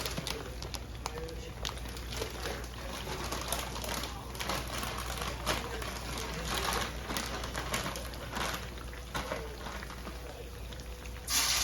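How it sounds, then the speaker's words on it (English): Shoestring fries frying in hot oil give a steady, dense crackle and sizzle that runs unbroken at an even level throughout. "I'm gonna go ahead and drop some fries."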